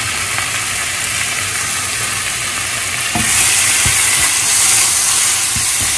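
Porcini mushrooms sizzling in a hot pan as vegetable bouillon is poured in, a steady loud frying crackle that surges into a brighter hissing steam burst partway through, with no talking.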